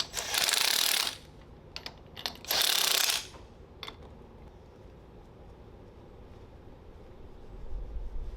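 A ratchet tightens bolts on a jetski during repair work, giving two loud sustained bursts of rapid clicking, each about a second long, then a few sharp isolated clicks, followed by quiet background.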